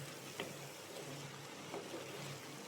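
Cabbage and green pea stir-fry stirred in a pan, a steady soft sizzle with faint scrapes of the spoon, quiet and close, with no talking.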